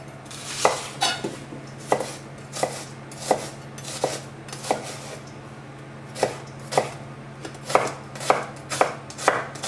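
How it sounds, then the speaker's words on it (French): An onion is chopped with a knife on a board, giving sharp, close chops at a fairly even pace with short pauses between bursts. A faint steady hum sits underneath. "La première étape, je vais détailler l'oignon"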